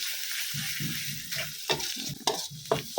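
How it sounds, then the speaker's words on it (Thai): Thai curry paste is stir-fried in a pan over the heat, a soft sizzle broken by repeated spatula scrapes and knocks against the pan, close and rhythmic, with no talking. "เราต้องผัดพริกแกงให้สุกก่อนเพราะว่าไม่งั้นเดี๋ยวพริกแกงจะไหม้"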